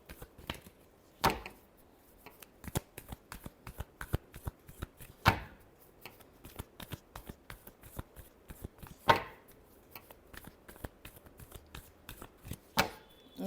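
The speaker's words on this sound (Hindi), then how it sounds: "last shuffle" Tarot cards are shuffled by hand close up. Soft, quiet riffling and tapping repeat in an irregular rhythm, with a few louder snaps as the deck is squared or split.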